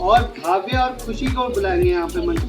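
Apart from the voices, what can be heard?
No everyday noises stand out.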